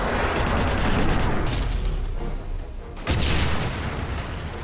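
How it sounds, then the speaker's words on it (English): A grenade explodes in Wolfenstein with a loud, sustained boom and rumbling blast, followed by a second surge of noise about three seconds in, with almost no talk. "Grenade, run!"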